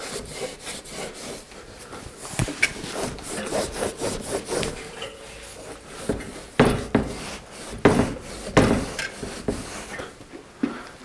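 A rag is pulled back and forth around a bicycle hub axle on a thrift-shop Mongoose, giving irregular scratchy rubbing strokes that swell and fade, close and fairly quiet, with no talking.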